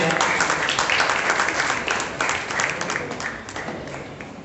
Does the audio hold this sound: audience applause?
yes